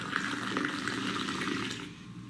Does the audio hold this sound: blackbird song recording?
no